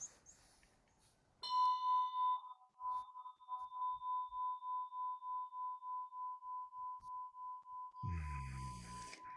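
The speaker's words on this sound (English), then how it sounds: "can I ring the bell one more time?" A single ring of a bell at a memorial gathering leaves a clear, pure tone that hangs and slowly pulses as it fades over several seconds. A soft rustle follows at the end.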